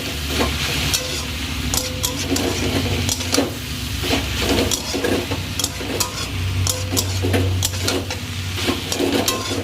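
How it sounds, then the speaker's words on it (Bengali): Leafy greens with a little sugar are stirred in a cooking pan. A spoon scrapes and clatters in repeated strokes over a steady, close sizzle, and no one speaks. "চিনি দিয়ে আমি আর একটু ভালো করে নেড়ে চেড়ে নেবো"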